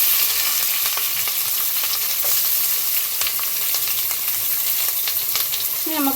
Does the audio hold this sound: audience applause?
no